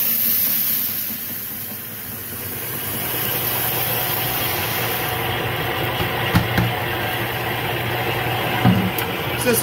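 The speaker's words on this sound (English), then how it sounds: "it is time to get this milling here. To do that in the little malt mill." A small malt mill grinds grain for brewing with a steady, loud, droning mechanical whir that holds constant throughout, along with faint crackling of kernels being crushed.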